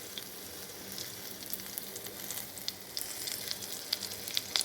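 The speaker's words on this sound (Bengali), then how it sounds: "অনেকটা ভাজা ভাজা হয়ে এসেছে। এটা আরেকটু ভেজে নিতে হবে।" Chepa shutki with pumpkin leaves fries in a little oil in a pan, a steady close sizzle with small crackling pops throughout and no talk.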